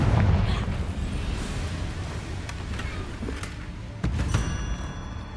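Fiery explosive spell blasts from Hogwarts Legacy, a sustained rumbling roar with a sharper burst near the end, dense and loud throughout with no talk.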